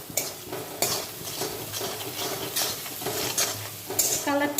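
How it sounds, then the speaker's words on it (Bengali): Kashmiri chilli powder stir-fried in oil for chicken chaap, a soft steady sizzle broken by repeated scraping strokes of a spatula against the pan, close up, no talking. "কাশ্মীরি লঙ্কার গুঁড়ো, এটা সুন্দর করে আবার ভাজতে হবে।"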